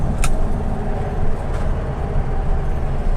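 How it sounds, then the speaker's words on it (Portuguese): A 1966 Volkswagen Beetle (Fusca) boxer engine idles in a steady, low, rumbling drone, close and continuous, with no voices over it. "ouvir um som de motor Boxer em marcha lenta"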